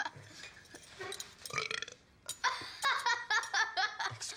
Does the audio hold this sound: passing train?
no